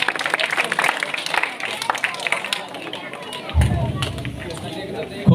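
Applause from an audience at a village student award ceremony, broad clapping noise running throughout with low thumps near the end and speech over it.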